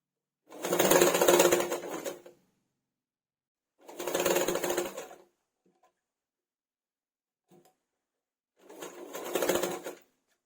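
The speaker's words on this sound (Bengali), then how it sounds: "ছোট ছোট কুচি দিয়ে এটাকে সেলাই করে নিতে হবে" A sewing machine runs three separate bursts of stitching, each lasting a second or two, as small pleats are sewn onto a bolster pillow cover. Quiet gaps fall between the bursts, with no talking.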